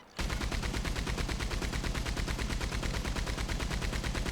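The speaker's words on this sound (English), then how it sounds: "We can also get a Gatling gun." A Gatling gun in Red Dead Redemption 2 fires a fast, unbroken stream of loud, evenly spaced shots that starts abruptly and carries on without pause.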